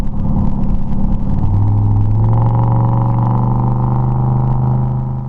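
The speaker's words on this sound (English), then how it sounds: "I just barely give it some throttle and she takes off." A 1948 Chevy coupe with a rebuilt 700R4 transmission pulls away under light throttle, its engine note rising steadily and loudly with no talk.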